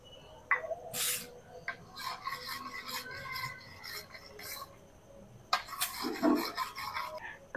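Melted chocolate stirred with oil in a bowl, a close scraping, rasping mix of spoon against the dish, coming in bursts with short pauses.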